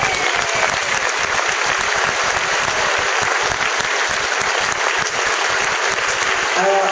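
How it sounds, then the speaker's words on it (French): Festival audience applauding loudly and steadily for a speaker at an outdoor event, dense continuous clapping from a large crowd with some voices beneath. "mais Roland, j'aimerais que tout le monde t'applaudisse."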